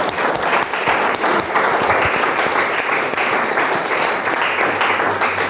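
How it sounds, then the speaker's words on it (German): Audience applause at a book presentation for poet Friederike Mayröcker, a steady dense wash of clapping from a seated crowd that stays even and fairly loud throughout. "eine Runde von Applaus geben"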